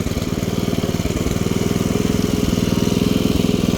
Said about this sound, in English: pull it all the way back, and the engine is stopped